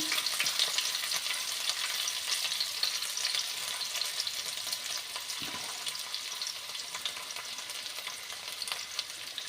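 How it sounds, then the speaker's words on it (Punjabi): Finely chopped garlic fries in a pan with asafoetida, spinach and fenugreek greens, a steady dense crackling sizzle close by with occasional stirring scrapes, no voices. "ਹੁਣ ਇਹਦੇ ਵਿੱਚ ਐਡ ਕਰ ਦਾਂਗੇ ਬਰੀਕ ਬਰੀਕ ਕੱਟਿਆ ਹੋਇਆ ਲਸਣ"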